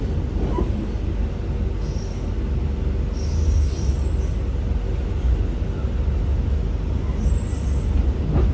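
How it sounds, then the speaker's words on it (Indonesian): The Singasari executive train pulls into Lempuyangan station, a steady loud low rumble of rolling cars with faint wheel squeals high above, continuous throughout, no voices. "kereta api Singasari masuk stasiun Lempuyangan"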